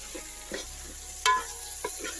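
Chopped tomatoes and peeled garlic get stirred into frying masala for a chicken curry, giving a faint low sizzle with a few soft spoon scrapes and one sharper clink, close by and without talk.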